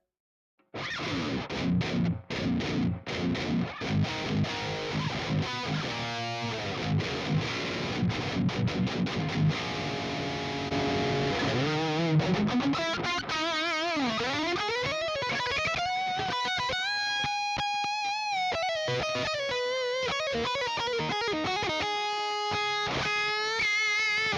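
High-gain electric guitar through a neural capture of an Engl Savage amp boosted by a Fortin drive pedal, on a 7-string, played loud and close: tight chugging rhythm riffs first, then sustained singing lead lines with bends and vibrato, no talking.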